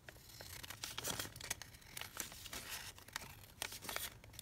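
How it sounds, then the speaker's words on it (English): Paper being trimmed for a spring garden junk journal, with quick crisp snips and light rustling crinkles in an uneven rhythm, close and quiet, with no talk. "And then again, I'm just going to trim along there."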